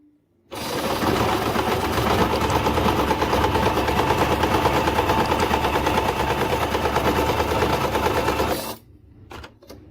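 A sewing machine stitches fabric with the pedal pressed, run to check bobbin thread tension after reassembling the bobbin case: a loud, steady, rapid mechanical whir starts abruptly, holds for about eight seconds, then cuts off.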